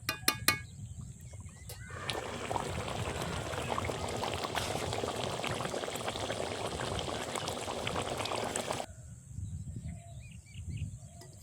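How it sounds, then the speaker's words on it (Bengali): Chital fish curry simmering in a spicy gravy, a steady bubbling and sizzling hiss that holds for several seconds after a brief clatter, then fades back to a quiet kitchen with faint background chirps. "মাছগুলোতে মশলা ঢোকা পর্যন্ত ফোটাতে থাকবো।"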